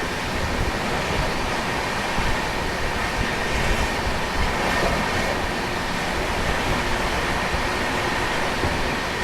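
A train rolls steadily through Bayana Junction station, a continuous broadband rumble and rush of wheels on rail holding at an even, fairly loud level with no voices.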